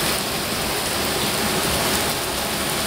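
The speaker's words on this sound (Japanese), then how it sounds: "ずっとこの雨の調子が続くみたいなんで、" Steady rain falls on a Shikoku pilgrimage route in Japan, a dense, even hiss of drops on surfaces that stays constant and fairly loud throughout, with no voices.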